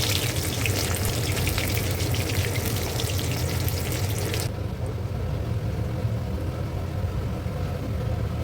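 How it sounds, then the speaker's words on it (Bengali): Batter-coated prawns frying in oil, a loud dense sizzle that drops partway through to a duller, lower bubbling hiss, steady and close with no speech. "এটাকে বলতে পারেন চিংড়ি ব্যাটার ফ্রাই"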